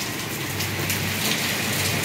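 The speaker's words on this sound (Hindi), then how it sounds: "ओम जैसे ही बारिश शुरू हुई बस आप मस्ती करने निकल दिए" Steady rain pours down outdoors in a street, a dense, even hiss of falling drops that stays loud and unbroken throughout.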